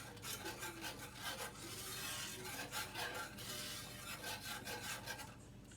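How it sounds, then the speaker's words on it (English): Milk being stirred into a sauce in a pot for baked penne with squash and goat cheese, a steady scraping, rubbing rhythm of a utensil against the pot, close and continuous with no talk. "Keep incorporating this milk. Stirring her in."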